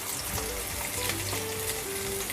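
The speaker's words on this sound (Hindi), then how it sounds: "इसको हमें गोल्डन ब्राउन होने तक फ्राई करना है प्याज को।" Chopped onions sizzle steadily in a hot pan over a low-to-medium gas flame, a continuous close crackle with occasional stirring and no voices.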